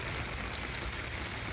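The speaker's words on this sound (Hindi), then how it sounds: "काफ़ी तेज़ बारिश इस वक्त लगी हुई है, मूसलाधार बारिश हो रही है" Torrential monsoon rain pounds down in Islamabad, a dense, loud and unbroken roar of falling water with no voices over it.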